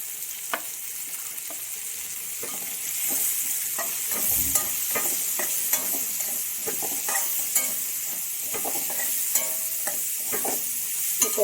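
Onions sizzle steadily in a hot pan for a prawn curry while a spoon stirs them, with frequent scraping clicks throughout and no talking.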